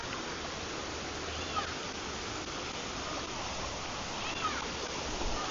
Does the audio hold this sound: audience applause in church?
no